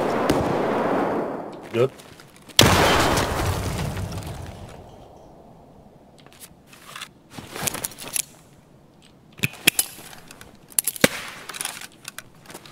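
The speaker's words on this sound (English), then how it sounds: "I'm gonna throw a nade down there." A grenade detonating in the video game Escape From Tarkov inside a mall, one loud boom with a long reverberant tail, followed by scattered sharp gunshot-like cracks, with brief talk.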